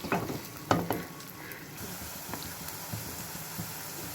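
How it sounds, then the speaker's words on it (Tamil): Onions sautéing in a pan for a watermelon-skin kootu, a soft steady sizzle with a few sharper clatters of stirring early on, close and moderately quiet, no voices. "வெங்காயம் நல்லா பச்சை தன்மை போகிற வரைக்கும் வதக்கிக்கோங்க."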